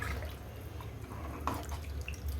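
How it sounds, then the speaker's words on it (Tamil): Water poured into a pot over soaked rice and lentils while making one-pot sambar rice, giving a steady, close wash of liquid with a few soft splashes. "இப்போ தண்ணி சேர்த்துக்கிறேன்"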